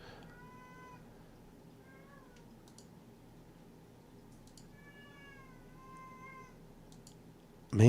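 Cats meow repeatedly, with several drawn-out, wavering cries spread over a few seconds above a low indoor background of faint clicks, ending in a sudden loud knock.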